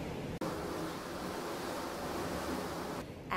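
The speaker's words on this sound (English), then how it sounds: "it's very windy right now" Strong wind buffets the microphone outdoors on a very windy, sunny day, giving a steady loud roar with no voices in the foreground.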